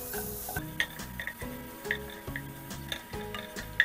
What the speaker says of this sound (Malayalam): ഇതിൻ്റെ പച്ച മണം മാറുന്നത് വരെ വഴറ്റി യോജിപ്പിക്കുക.